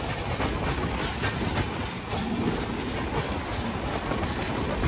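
An Indian Railways Mumbai–Howrah Mail passenger train runs on the rails near Santragachi, a loud continuous rumble with rattling wheel noise heard from inside the coach.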